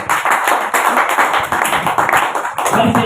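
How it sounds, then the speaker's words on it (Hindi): An audience at an RCM business meeting claps together in loud, continuous applause, a fast patter of hand claps filling the room without talk over it. "ताली बजाओ।"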